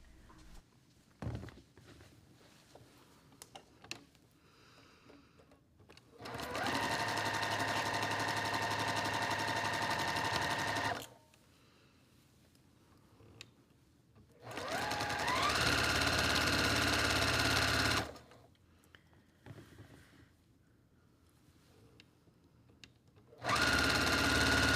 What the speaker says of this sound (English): So we're going to stitch with a 1/4 inch seam and fix this and this.